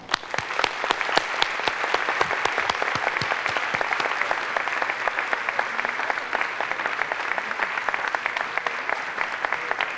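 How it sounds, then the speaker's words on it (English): An audience at a 2012 Arkansas civil rights heritage trail commemoration applauding, dense steady clapping from many hands sustained evenly for the whole stretch, with no voices over it. "Let's give another round of applause for Bliss Ann Malone Hunter, a 1961 Freedom"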